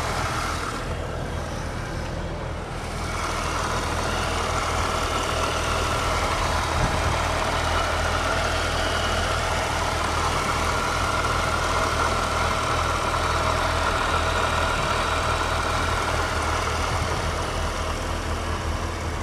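A 2015 Chevrolet Corvette Z06 supercharged LT4 engine idles with a steady low rumble and a constant hum, close by and unchanging for the whole stretch.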